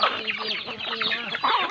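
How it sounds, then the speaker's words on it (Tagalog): Chickens clucking close by, a busy overlapping chorus of short clucks and squawks. "Ayan pong alaga natin na mga manok."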